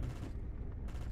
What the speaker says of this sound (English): But that is gunshots.